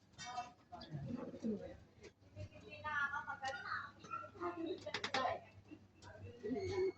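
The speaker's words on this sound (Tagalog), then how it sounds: "Mga kaibon." Racing pigeons coo in a loft, with soft repeated coos and bird calls close by, mixed with a person talking intermittently and faint background hum.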